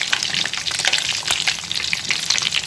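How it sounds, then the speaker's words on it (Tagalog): A small spoonful of ground-meat lumpia filling fries in a pan, crackling and popping in a dense, busy sizzle that stays loud and close throughout. "Magprito kayo ng konti."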